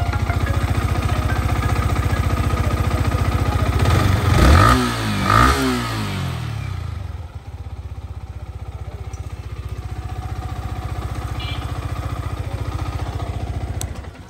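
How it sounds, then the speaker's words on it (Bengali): A Yamaha MT15 motorcycle engine idles, revs up sharply twice, then drops back to a steady idle, loud and close with no talking. "বাইকটার সাউন্ডটা শোনাই একটু।"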